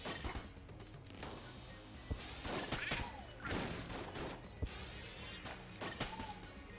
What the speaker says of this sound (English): I'm shooting through them constantly in order to conserve ammunition